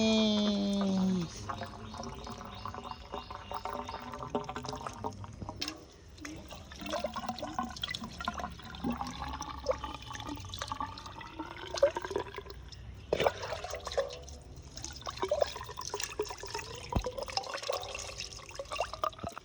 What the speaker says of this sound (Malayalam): അപ്പോഴാണ് വെള്ളം ഇതിലേ വരികയുള്ളൂ